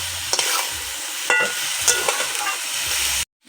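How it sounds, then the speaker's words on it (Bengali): Chicken momo filling meat stirred and fried in a pan, a close sizzle broken by scraping spoon strokes, then cut off abruptly. "এটা কিন্তু আমি 4 থেকে 5 মিনিট নাড়াচাড়া করে একটুখানি ভেজে নেব"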